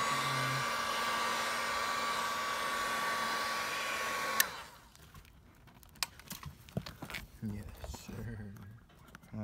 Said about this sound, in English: It just melted.